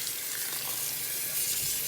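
Tap water runs steadily as shirts soak for bleach tie-dye, a soft continuous hiss and splash with no voices.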